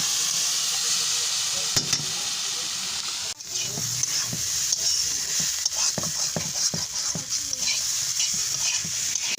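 Dal cooking in a pan hisses and sizzles steadily while a spoon scrapes and stirs it in repeated strokes, with a short clatter now and then.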